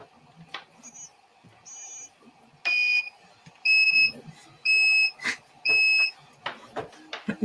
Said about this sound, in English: I actually did that when I was assembling my Prusa so that my Prusa doesn't beep so loud.